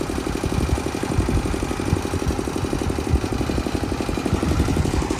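The engine of a tube-well motor extraction machine runs close by with a loud, steady, rhythmic chugging and knocking pulse, and no voices.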